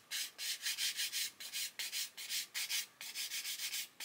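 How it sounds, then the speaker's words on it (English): Rapid back-and-forth scratchy rubbing of a 400 grit sanding stick on plastic model kit parts, removing sprue nibs and paint, in short regular strokes, close and steady with brief pauses. "sand away those sprue nibs and also sand away the paint from the edges"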